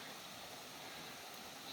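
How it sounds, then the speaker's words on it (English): River water rushing over a drop, heard from a paddled boat as a steady, broadband roar with no breaks, fairly faint and very brief. "there's a lot of water going over here"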